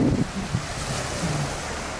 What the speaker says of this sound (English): This is the ocean right here.